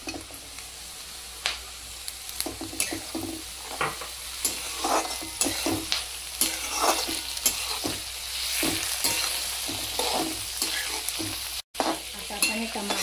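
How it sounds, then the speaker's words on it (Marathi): Tomatoes stirring and frying in a pan for a Mumbai street-style Jini dosa, with loud, close scraping strokes over a continuous sizzle. "आता आपण हे टमाटर छान मिक्स करून घेऊ"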